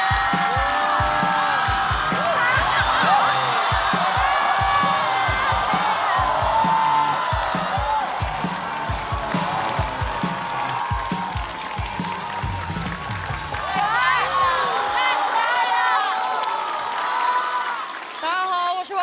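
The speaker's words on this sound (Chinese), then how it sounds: "掌声有请王悦" A stand-up comedy show audience claps and cheers with whoops as the comedian is welcomed, loud sustained applause while music plays underneath, tapering off near the end.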